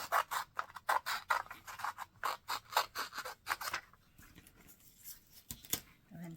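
Scissors snip repeatedly through paper from an upcycled children's book, a quick run of crisp, close cuts in an uneven rhythm that slows and thins out toward the end.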